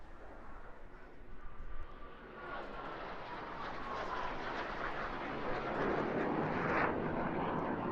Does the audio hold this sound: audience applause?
no